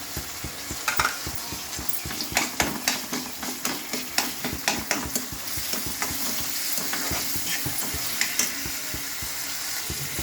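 Onion browning with tomato in a pan for bitter gourd palya, a spoon scraping and stirring in a steady rhythm over a loud, continuous sizzle, close up.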